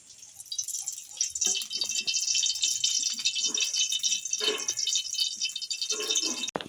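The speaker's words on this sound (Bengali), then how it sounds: "আমার কড়াই গরম হয়ে গেছে আমি কড়াইয়ে দিয়ে দিচ্ছি সাদা তেল" White cooking oil hitting a hot wok, giving a bright, continuous sizzle and crackle with scattered pops and drips throughout, fairly close and steady from start to finish with no talk.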